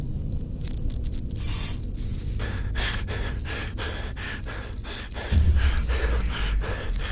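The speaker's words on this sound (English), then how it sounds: "Be sure to give the canister button another push as needed." Repeated short bursts of hissing spray from a canister in a Five Nights at Freddy's Help Wanted game, several quick puffs in a row, with breathy noises and a low rumble joining near the end.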